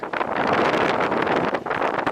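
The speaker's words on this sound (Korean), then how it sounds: "바람 소리 들리시죠?" Strong wind at Naksan Port harbor roars and buffets the microphone continuously, loud and close, with no other sounds standing out.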